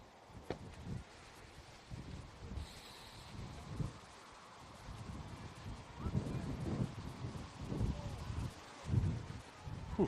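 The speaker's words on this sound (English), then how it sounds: "Whew, that wind is really picked up now" Strong gusts of wind buffet the microphone at an outdoor youth softball game, producing deep, uneven rumbling bursts that swell and fade, with voices faintly audible underneath.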